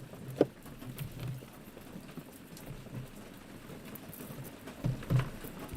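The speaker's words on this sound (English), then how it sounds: "And it started pouring down rain again." Heavy rain pouring down outdoors, a steady dense patter with a few louder thuds, fairly quiet and continuous, with no voices.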